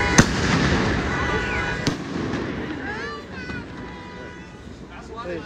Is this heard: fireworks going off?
yes